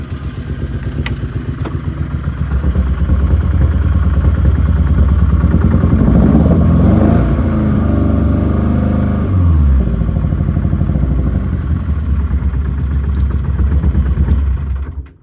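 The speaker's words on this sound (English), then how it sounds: "very tappety at the top end" A 1977 Vauxhall Cavalier mk1 engine runs close and loud with a rough, clattering idle and pronounced top-end tappet noise, holding steady before cutting off at the end.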